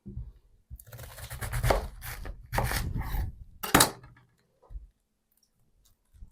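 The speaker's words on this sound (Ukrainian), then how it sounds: "Дуже гарний сорт капусти, як бачите, зовсім немає серединки. Шаткую дрібненько." A knife finely shreds fresh cabbage on a board for a Ukrainian coleslaw of cabbage and carrot, giving a few loud bursts of rapid slicing strokes followed by a couple of faint isolated cuts and quiet pauses.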